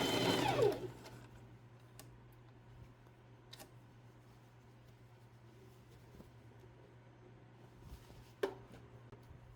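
Domestic sewing machine stitching a plus-size ring swimsuit, sewing back and forth to reinforce the seam; a low steady motor hum runs throughout, with a louder burst at the start and faint ticks later.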